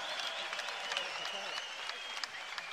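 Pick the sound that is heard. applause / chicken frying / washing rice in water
applause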